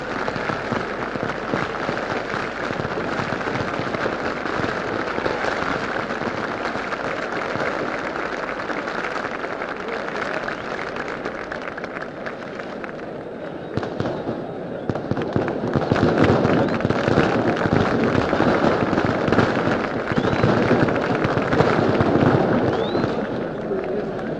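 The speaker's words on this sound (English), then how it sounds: "And firecrackers go off all around the ground." Dense, continuous crackling of firecrackers all around a football stadium at a 1959 Peru versus England match, a steady wash of pops swelling louder toward the end amid crowd noise.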